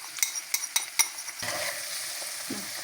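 Vegetables being stirred with Maggi masala in a pan for noodles: four quick utensil clinks against the pan, then a steady, quiet frying hiss.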